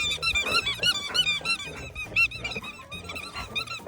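Two squeaky plush dog toys squeak over and over in quick, irregular bursts as dogs play with them indoors. The squeaks are loud and close, and there is no talk.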